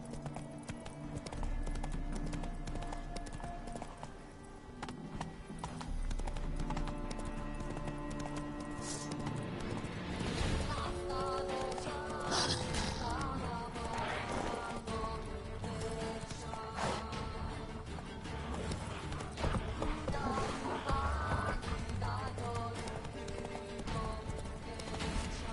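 Roach, a horse in The Witcher 3 game, gallops with steady rhythmic hoofbeats over a dense, continuous game soundtrack and ambient effects, with a brief whinny-like tone and faint voices in the mix.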